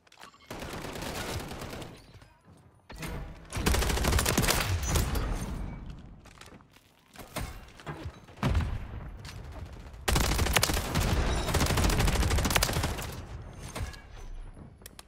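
Heavy gunfire rattles through a gunfight in the Modern Warfare 3 video game, with an AMR9 weapon. Several dense automatic bursts are separated by brief lulls, and each burst is loud and sustained.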